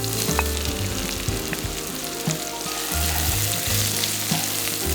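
Chopped onions, green chilies and ginger fry in a pot with cumin, giving a dense, steady sizzle and crackle with occasional stirring scrapes, close and without talk.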